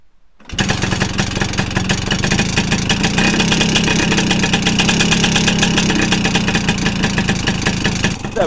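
A Vespa PX125 scooter engine starts and settles into a steady idle while warming up, close and loud, a buzzy, rapid two-stroke putter that continues evenly without any talking.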